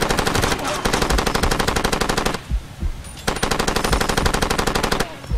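A mounted turret machine gun firing in Far Cry 2, loud rapid automatic bursts of evenly spaced shots, two long strings broken by a short pause with scattered thumps.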